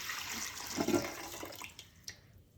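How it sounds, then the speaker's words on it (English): Water pouring into a pot for a rock candy project, a gurgling, splashing stream that swells briefly then tapers into scattered drips and small splashes before falling quiet. "Pouring water in the pot."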